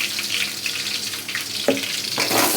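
Crushed garlic frying in hot oil gives a steady, fairly loud broadband sizzle that runs throughout, broken by a couple of sharper bursts as the garlic hits the pan; no one talks.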